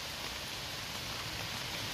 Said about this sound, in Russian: Застучал дождь.